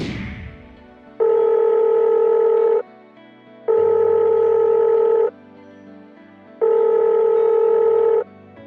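A phone call rings out as a caller waits, three long electronic ringback tones separated by short gaps, clear and steady, with no talk.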